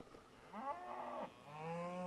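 Cattle low nearby in two drawn-out moos, the second longer and steadier, against a quiet outdoor background with no talking.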